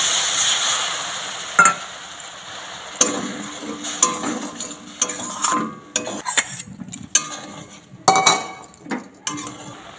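Chana dal with bottle gourd is stirred in a pan as a little water goes in. A spatula scrapes and clinks against the metal in irregular strokes over a soft, low sizzle.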